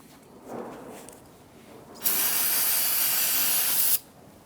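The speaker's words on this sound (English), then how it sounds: "give this a quick spray with some spray solvent" A steady, loud aerosol spray of solvent hisses onto the rear brake parts of a Jeep Grand Cherokee for about two seconds, starting and stopping abruptly after a brief quieter rustle.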